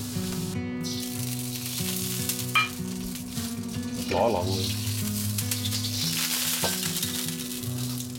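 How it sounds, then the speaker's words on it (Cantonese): Onions and char siu pork stir-fried in a wok for Yangzhou fried rice, a steady loud sizzle with scraping stir sounds and a brief clink, while someone speaks over it. "炒香咗啲洋葱，落埋啲叉燒落去，炒香佢先"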